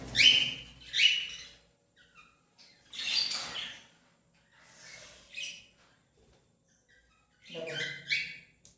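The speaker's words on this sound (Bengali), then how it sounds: "একটা ছেলে পাখি, এটা" An adult male bird gives several loud, harsh squawking calls in short separate bursts with quiet gaps between, heard close by in a quiet indoor space.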